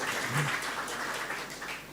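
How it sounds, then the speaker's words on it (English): At an examination results release event, an audience applauds a long-serving local registrar with a brief, even wash of clapping at moderate distance that stays steady for about two seconds. "I think she deserves a round of applause"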